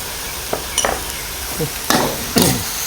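Banana blossom stir-fried with oyster sauce, fish sauce and seasoning powder, heard as a low, steady sizzle under a few sharp scraping spatula strokes against the pan, close by with no talk.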